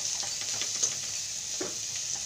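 Onion and garlic masala sautés in a pan for Hakka noodles, giving a steady, close hiss of sizzling oil with soft stirring scrapes and small crackles throughout, with no talk.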